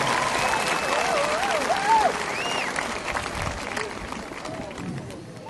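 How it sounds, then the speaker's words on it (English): A large crowd at the East Kentwood High School class of 2013 graduation ceremony applauds the graduating students. Sustained clapping mixes with several rising and falling whistles, then slowly fades toward the end. "Let's give these fine young men and women a round of applause for a job very well done."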